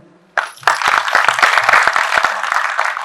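An audience breaks into applause after a brief pause, a steady burst of many hands clapping close and loud, with a soft voice heard faintly just before it starts.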